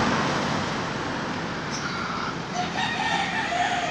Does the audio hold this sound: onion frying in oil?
no